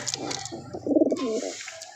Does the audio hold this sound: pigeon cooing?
yes